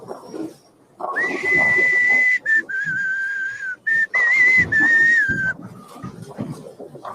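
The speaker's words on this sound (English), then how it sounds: "It's hard to whistle with a mask on." A person wearing a mask whistles a tune at a golf disc event, clear sustained notes in several phrases with short breaks, close and fairly loud over faint background noise.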